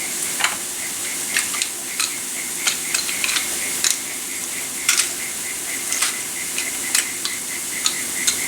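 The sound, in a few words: sautéing sweet potato leaves with garlic in a pan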